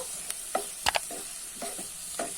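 Long beans in coconut curry are stirred in a pan, soft scraping strokes and light clinks over a faint steady sizzle, quiet and close.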